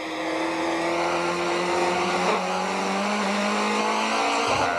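Touring race cars lapping Aldo Scribante circuit, heard from onboard a Nissan Primera in a 1998 touring car race: a steady, loud engine drone with shifting pitch as it accelerates and changes gear, continuous throughout.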